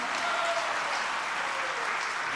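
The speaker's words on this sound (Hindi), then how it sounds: "अगर मेरी बात से सहमत हो तो तालियां बजाकर।" Steady applause from a gathered audience at a Jain religious discourse session in India, an even, continuous patter of many hands at moderate distance without a break.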